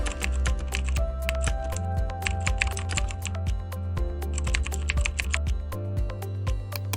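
Rapid, steady typing on a computer keyboard, close and continuous clatter of keys for several seconds with brief pauses and no speech.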